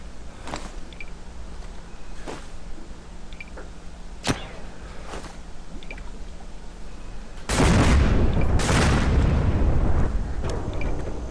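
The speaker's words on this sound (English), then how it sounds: "So if you want to get rid of this zombie here, we shoot the oil drum and set it on fire." Gunshots crack repeatedly in the Zombi video game as an oil drum is shot, then a loud roaring burst of explosion and fire noise fills the last few seconds.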